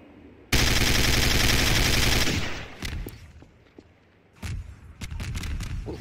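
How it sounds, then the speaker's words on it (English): A long burst of rapid automatic gunfire rattles loudly and close in a first-person shooter video game, then breaks into scattered single shots, thuds and further bursts. "there's just explosives going off just about everywhere"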